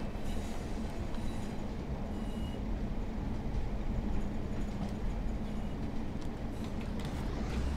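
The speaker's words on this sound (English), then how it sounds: "The flange sounds are absolutely awesome." Class 142 Pacer diesel train in Train Sim World 4 running along track, a continuous rumbling wheel and engine noise with faint flange squeal, steady and close, no talking.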